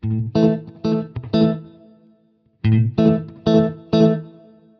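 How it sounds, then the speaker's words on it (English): Guitar chords strummed in bursts with a lingering echo and reverb tail, a short pause, then another set of echoing strums. "Here we have an echo reverb."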